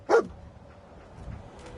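A dog in the video game Fallout 4 gives one sharp, close bark at the start. Faint background ambience follows, and nobody speaks.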